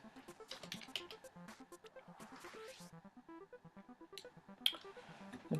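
Rapid, irregular key clicks from someone typing on a computer keyboard, close and fairly quiet, with a few sharper taps and a soft tonal musical background running underneath.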